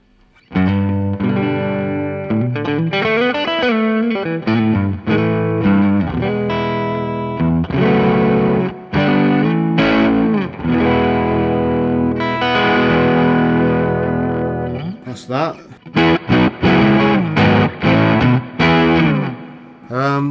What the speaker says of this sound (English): kind of doing a low gainy kind of more rounded sound